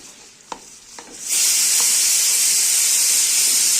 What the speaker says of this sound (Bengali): এতে দিয়ে দেবো পেঁয়াজ কুচি ভালো করে নেড়ে চেড়ে নেব